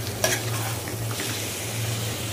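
Chicken being stirred and fried in a pan late at night, a steady close sizzle with scraping stir strokes throughout and no talking.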